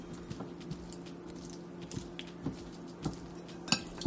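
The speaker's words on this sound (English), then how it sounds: "take a potato masher or a fork, and what we're going to do is just mash these beans" Cooked black beans mashed with a potato masher or fork for bean burgers: soft, repeated squishing presses and light taps against a bowl, roughly twice a second, faint over a steady background hum.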